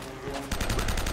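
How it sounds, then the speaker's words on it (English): Bursts of rapid gunfire during a firefight in Uncharted: Drake's Fortune, loud clustered shots starting halfway through. "We are in a gunfight."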